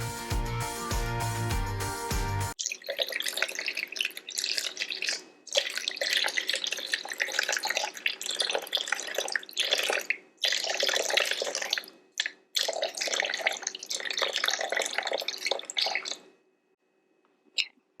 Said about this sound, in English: And then I'm gonna add the rest of the water.